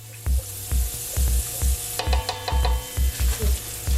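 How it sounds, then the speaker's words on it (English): Celery sautés in a pan with a steady, close sizzle, broken by regular low thumps from stirring, with no voices. "Gonna saute the celery because I don't want it to be hard."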